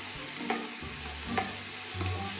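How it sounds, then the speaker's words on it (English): Apples are stirred into melted sugar in a pan, with a low bubbling sizzle broken by three distinct spoon scrapes at regular intervals, up close and without speech. "So once the sugar starts melting, we are going to add our apples. We are going to stir this really well."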